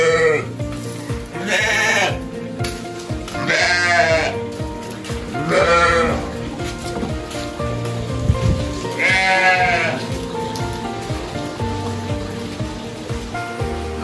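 Sheep bleat repeatedly in a pen, several loud calls spaced a couple of seconds apart over a steady farmyard background with low rumbling noise.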